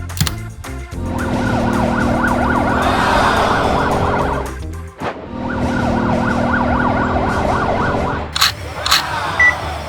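A loud wailing toy ambulance siren cycles rapidly up and down close by, cutting off briefly midway before resuming, then ending with a few clicks.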